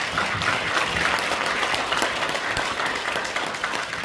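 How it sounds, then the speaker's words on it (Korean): Audience applause at an environmental volunteer award ceremony, dense sustained clapping from a large crowd filling the whole stretch without a break. "자, 박수로!"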